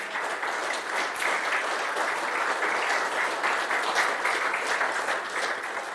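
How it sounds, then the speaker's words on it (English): An audience at a Berlin sailing club anniversary event gives a steady round of applause for a voted winner, dense even clapping sustained for several seconds at moderate distance. "a big round of applause for the person you voted for"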